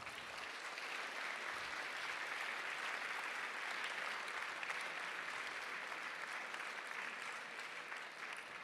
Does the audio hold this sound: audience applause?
yes